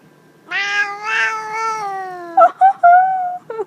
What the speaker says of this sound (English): Oh, kitty, I love you so much, beautiful cat.